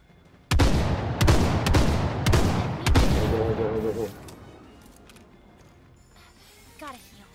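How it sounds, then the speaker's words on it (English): Gunfire in a video game shooter, several loud booming shots in quick succession over about four seconds, echoing and tailing off into quieter background game noise with a faint later pop. "Opening fire."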